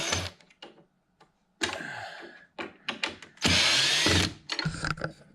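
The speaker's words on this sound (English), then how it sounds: "But I always love my screw gun" Cordless screw gun driving a short drywall screw to mount wood window blinds: several brief whirring bursts with quiet gaps, then one longer, louder, close high-pitched drive with ratcheting edges, followed by short clicks.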